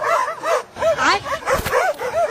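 Dog barking in repeated yelping bursts, several quick barks in a row at close range, loud and alone.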